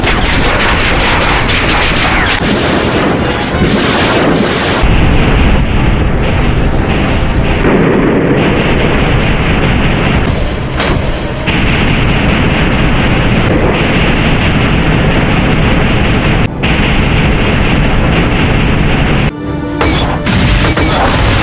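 Heavy barrage of explosions and cannon fire from helicopters and tanks attacking in the 2016 film Shin Godzilla, a loud, dense rumble of blasts and booms with short pauses and no talk over it.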